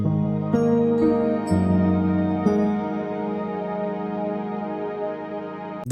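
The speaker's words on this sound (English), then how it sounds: "These 3 sounds are basically in sync with each other." Layered orchestral plugin sounds, rippling strings, a soft pad and piano, play a chord progression together, with bright chord changes and struck piano attacks over a sustained bed; no voices.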